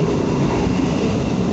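Inside the Blora Jaya passenger train running near Semarang, a loud, steady rumble of wheels and carriage fills the space close around the listener, with no talk.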